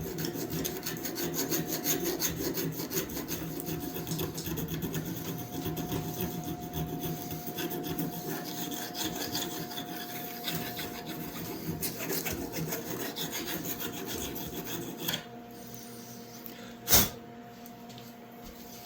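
A file rasps steadily back and forth along the edge of a Jowika camp knife blade clamped in a small vise, a continuous scraping close by that stops near the end, followed by a single sharp tap.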